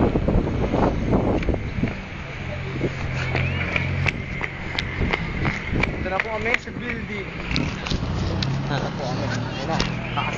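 Gusty wind buffets the microphone in a constant low roar while several people talk and laugh close by.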